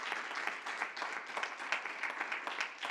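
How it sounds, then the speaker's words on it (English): Dense, steady applause from a conference audience after closing remarks at a climate resilience financing event, a continuous wash of many hands that holds evenly throughout. "And a big round of applause to Kitty for those closing remarks"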